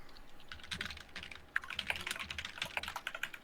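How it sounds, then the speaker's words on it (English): Fast, steady typing on a computer keyboard during a Souls-like themed Family Feud game, with irregular clicking keystrokes running close and clear throughout, no voices. "All the typing is so ASMR."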